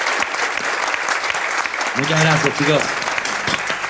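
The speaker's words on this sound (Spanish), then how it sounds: "un aplauso grande" Audience applause at a talk event in a hall, dense clapping throughout while someone speaks briefly over it in the middle.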